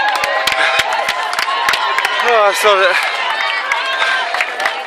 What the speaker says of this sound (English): The crowd is amazing.